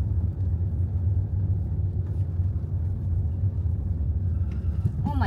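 Continuous low road rumble surrounds a moving car as it drives through traffic, steady and close throughout, with a brief higher sound near the end.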